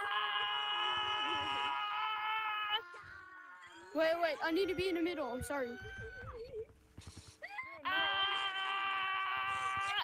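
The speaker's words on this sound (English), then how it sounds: "Everyone scream." Several Gorilla Tag players in a virtual reality game scream together in loud, sustained, layered high-pitched wails that come in two bursts. Busy chattering voices fill the gap between them, and one person speaks briefly.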